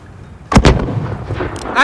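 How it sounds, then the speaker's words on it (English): Mortar fire in the video game Call of Duty: Modern Warfare lands as a pair of loud, booming blasts in quick succession. A rumbling tail and scattered crackle follow, with brief voices mixed in. "Alex, there's another Alcatala mortar."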